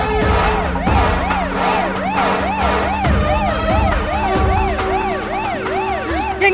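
An ambulance siren wails in steady repeated rising-and-falling cycles, loud and close, over traffic rumble and a low engine drone, with no speech.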